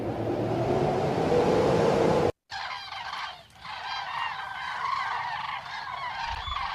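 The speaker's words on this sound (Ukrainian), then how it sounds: "Курличуть перелітні птахи." A flock of migrating birds calls overhead, with repeated honking cries over a rushing, wind-like background that briefly cuts out partway through.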